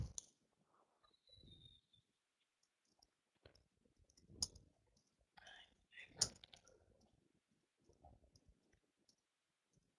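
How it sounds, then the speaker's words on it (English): Someone typing on a computer keyboard gives sparse, quiet clicks and taps in short irregular bursts separated by near-silence, with faint breathy vocal sounds here and there. "using the keyboard. One second."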